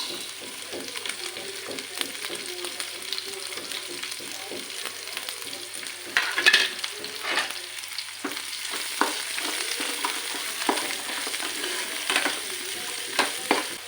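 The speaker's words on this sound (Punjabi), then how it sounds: "ਜਿੰਨੀ ਦੇਰ ਪਿਆਜ਼ ਭੁੰਨਦਾ ਆ" Onions fry in a pan, a continuous close sizzle with frequent scraping stirs of a spatula, growing busier toward the middle; no talking.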